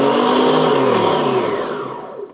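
An Aio counter-rotating vacuum blender runs, its outer container and inner blade spinning in opposite directions. It gives a loud, steady mechanical whir that starts to wind down toward the end, with no voices.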